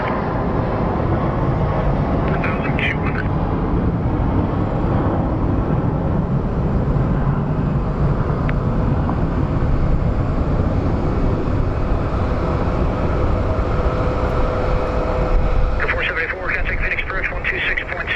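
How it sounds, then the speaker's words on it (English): A Spirit Airlines airliner at Phoenix Sky Harbor airport gives off a steady, loud jet roar that holds throughout and swells slightly near the end, with voices talking over it. "And here comes our Spirit Airlines"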